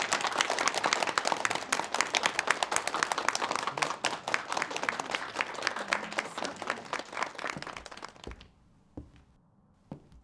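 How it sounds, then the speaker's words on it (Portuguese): Audience applause opening a thought-reform course for Christians in Panglong: loud, dense clapping from a large crowd that holds for about eight seconds, then thins to a few scattered claps and fades out. "Aplausos"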